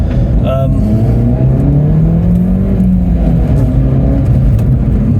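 A Mini with a 1.6-litre turbocharged engine running loudly up close, its dense engine drone rising and falling in pitch as it revs, with a voice briefly audible over it.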